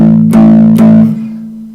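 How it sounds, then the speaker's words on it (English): Clean electric guitar chords ringing through a Blackstar HT-5 tube amp, two strums close together, then sustaining and slowly fading. "as a clean amp, it just sounds great."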